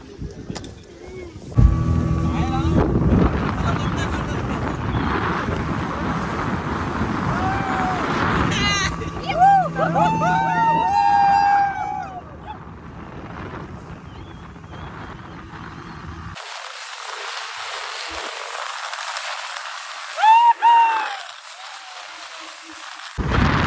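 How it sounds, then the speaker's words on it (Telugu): Motor boat ride out on a reservoir at Somasila, with steady engine and water rush, wind buffeting the microphone, and a few shrill whistles and voices over the top; the engine drops away near the end, leaving a hiss. "Crazy boat ride."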